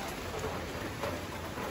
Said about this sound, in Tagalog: talagang dito sa amin may pabugso-bugso pa pong ulan